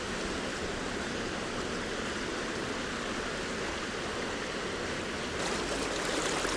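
River current flowing at a moderate pace on a rising grayling river, a steady close rushing and gurgling of water that swells slightly louder toward the end, no speech.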